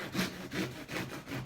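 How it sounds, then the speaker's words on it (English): Bread knife sawing down through a loaf using the whole blade length, four steady rasping back-and-forth strokes, close and fairly quiet with no talk. "use the whole length of the knife to saw it down the loaf like this"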